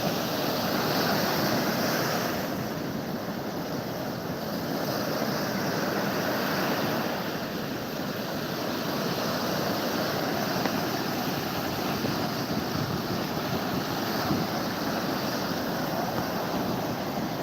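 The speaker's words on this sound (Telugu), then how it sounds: "పాల నురగలు అలల హోరు పాల నురగలు" Sea waves roar continuously against RK Beach in Visakhapatnam, a broad steady rush of surf with slow swells in loudness and some wind noise.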